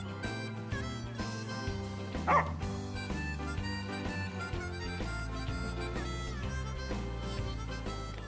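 A dog in the Final Fantasy XV video game gives a single short bark partway through, heard over steady, loud in-game orchestral music.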